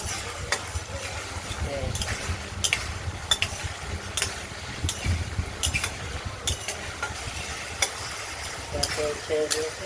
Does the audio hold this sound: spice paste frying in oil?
yes